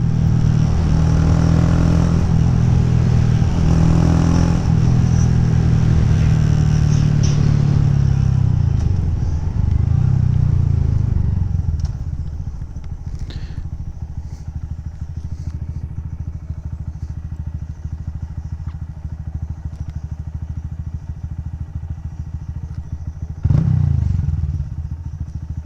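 A Honda Grom motorcycle's small engine runs loud and close with a steady throaty idle, easing back to a quieter idle after about ten seconds, with a brief blip of revs near the end and no talking.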